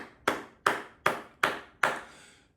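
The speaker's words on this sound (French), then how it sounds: "Et pour cela, je vous applaudis." Five slow, deliberate hand claps ring out alone at an even pace, each crisp and close with a short decaying tail.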